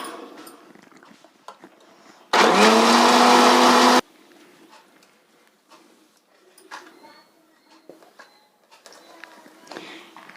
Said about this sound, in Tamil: இது மிக்ஸி ஜாரில் போட்டு நல்லா அடிச்சுக்கலாம்.